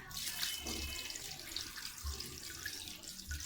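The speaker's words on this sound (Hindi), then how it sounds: "ये 10 कप वाटर जो है मैंने इसमें डाल दिया" Water poured into a cooking pot for haleem, a steady, fairly quiet splashing stream that runs unbroken and alone.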